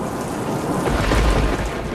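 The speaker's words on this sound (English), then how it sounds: "never seen a storm quite like this." Heavy rain pours in a thunderstorm as a constant wash of noise, while a low thunder rumble swells in the middle and fades. The sound is loud and close, with no speech.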